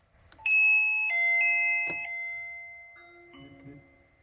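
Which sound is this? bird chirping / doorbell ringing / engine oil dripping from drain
doorbell ringing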